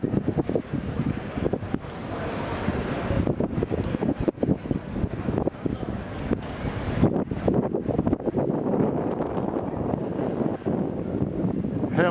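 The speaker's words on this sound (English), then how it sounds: "I know the wind is blowing, but I'm going to try to speak anyway" Strong wind buffets an outdoor camera microphone in Hamburg, a continuous loud rumbling roar with gusty surges throughout and no clear voice.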